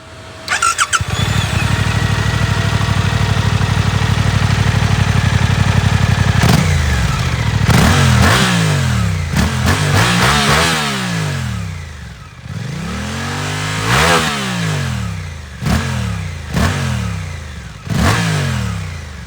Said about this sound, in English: let's throw it to the exhaust clip